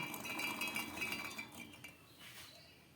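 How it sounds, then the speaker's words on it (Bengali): Sprouted peas drop into a mixer jar with close, light clattering and clinks for about a second and a half, then taper to faint rustling. "একটা মিক্সিং জার নিয়ে নিলাম তার মধ্যে আমি এই অঙ্কুরিত মটরগুলো দিয়ে দিচ্ছি"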